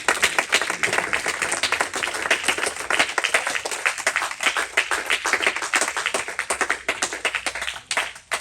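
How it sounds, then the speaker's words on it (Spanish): A church congregation gives a loud, vigorous round of applause for the Lord during a service in Panorama City. Dense clapping continues steadily for several seconds and thins slightly near the end. "Le damos un aplauso fuerte al Señor."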